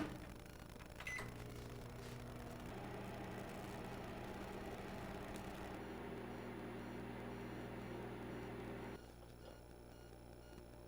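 A microwave oven hums steadily while cooking a bowl of ChapaGuri noodles, a faint, even drone with a low motor tone that drops to a quieter level near the end.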